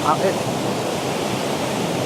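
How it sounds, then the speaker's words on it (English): A waterfall roars steadily in a steep-sided ravine at Scaleber Waterfalls, a dense, unbroken wash of falling water that echoes off the rock walls and fills the whole scene. "Obviously the waterfall's making a lot of noise"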